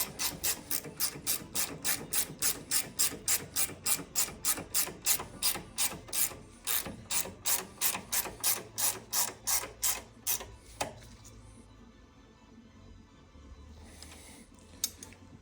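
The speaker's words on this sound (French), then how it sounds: "il me reste à serrer la rotule de direction" A ratchet tightens the steering ball joint on a Citroën C3 phase 1, clicking in a fast, steady run of sharp strokes for about ten seconds before stopping, followed by quieter workshop handling.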